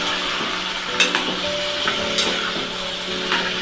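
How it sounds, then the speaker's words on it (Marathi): Cauliflower, peas, capsicum and tomato fry in oil for pav bhaji, a close steady sizzle broken by occasional knocks and scrapes of a stirring spoon, with a faint tonal hum beneath. "आणि 2 मिनिटं आपल्याला हे चांगलं परतायचं आहे। तेलामध्ये चांगलं फ्राय व्हायला पाहिजे"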